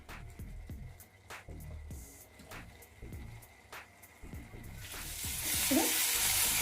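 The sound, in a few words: kadai vegetable masala cooking in oil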